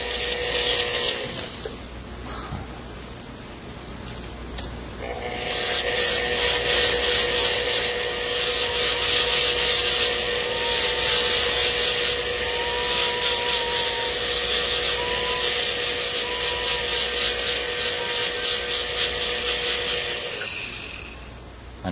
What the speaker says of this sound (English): remove the skin off the occlusal surface with a metal wire brush